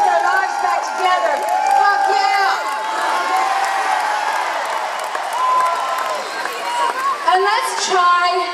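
A large arena crowd at Madison Square Garden applauds and cheers for New York volunteers, a dense steady roar of clapping and whoops with scattered voices and shouts running throughout.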